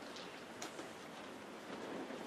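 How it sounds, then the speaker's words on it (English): Rain falls steadily outside, a faint, even patter with a few slightly sharper drops, heard alone without talk. "Can you hear the rain outside?"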